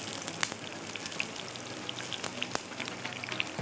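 Onion frying in hot cooking oil for daal tadka, a steady dense sizzle with scattered pops and crackles, close and continuous with no talk.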